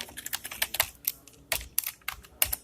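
Fingers type code on a computer keyboard in quick uneven bursts of crisp clicks, close and fairly quiet, with short pauses between runs of keystrokes.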